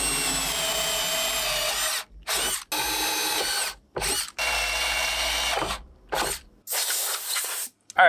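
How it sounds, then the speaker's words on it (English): A power drill bores holes in reclaimed 1964 cedar power poles for a skoolie roof deck, whining loudly in repeated bursts of one to two seconds separated by short silences. "now that we have the holes drilled"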